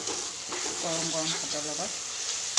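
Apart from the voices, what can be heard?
frying and stirring a crab dish in a pan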